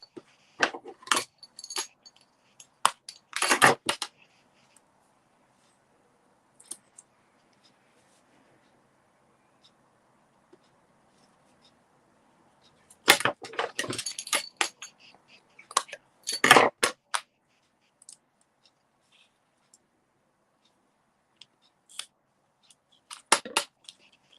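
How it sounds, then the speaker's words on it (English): Scissors snip through designer series paper in short crisp bursts of cuts separated by long quiet pauses. "And then I think I need to cut some in half."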